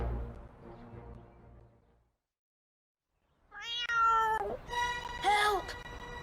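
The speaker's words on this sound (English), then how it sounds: "Help! My cat is in the tree." A cat meows several times in a row, wavering and fairly close, after an earlier stretch of music and a brief silence.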